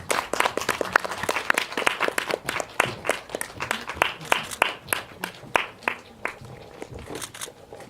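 At a film festival audience talk, a theater audience gives sustained applause as six actors walk onto the stage. The clapping is dense, irregular and close, and it thins slightly toward the end.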